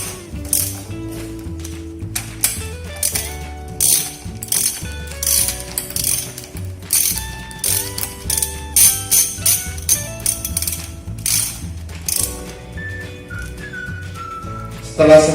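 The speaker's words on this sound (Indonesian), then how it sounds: "kita memasang pada bolt pengikat pada bearing cage dengan menggunakan bantuan ratchet handle soket ukuran 17 mm" A ratchet handle with a 17 mm socket tightens bearing cage bolts on a Torqflow transmission, producing repeated rhythmic clicking strokes up close over a background of steady tonal melody.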